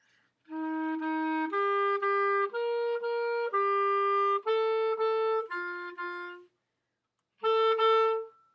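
A clarinet plays a series of sustained B natural notes, one after another, then pauses briefly before a final held note.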